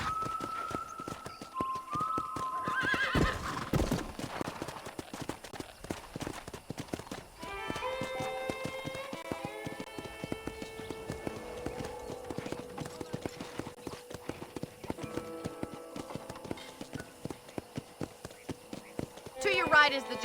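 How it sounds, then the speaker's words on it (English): Horse hooves clip-clop steadily while riding in Red Dead Redemption, with a loud whinny early on and musical tones underneath, and a continuous rhythmic gait throughout. "let's see if you can still ride a horse."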